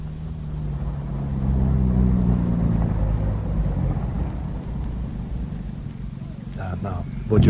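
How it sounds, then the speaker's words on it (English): A car in a radio drama sound effect, heard as a steady low engine rumble that swells and drones on throughout, with a sharper mechanical clunk near the end. "Stay here. I'll bring the car around."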